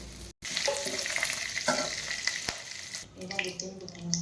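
Palang shag spinach fries in a pan, a close, busy sizzle and spatter with occasional clinks from stirring and a brief cut in the sound near the start.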